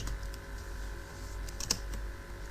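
A computer keyboard clatters under quick typing, a run of light, close, irregular key clicks over a steady low room hum with no talk.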